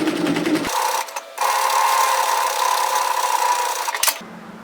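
A sewing machine runs steadily at close range, stitching down the facing of a V-neck Henley sweater through bulky seams, with a brief stop and restart partway through and a short click at the end.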